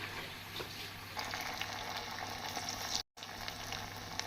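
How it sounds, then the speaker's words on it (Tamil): Taro root pieces deep frying in hot oil, a quiet, steady bubbling sizzle with no voices. "நாம் அனைத்து சேப்பங்கிழங்கையும் இப்படி பொரித்து எடுத்துக்கொள்ள வேண்டும்."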